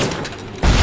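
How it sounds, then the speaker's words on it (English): A grenade launcher fires in BioShock: a short, heavy low boom lands after a quieter stretch and carries on as a loud, broad blast. "I forgot about the grenade launcher"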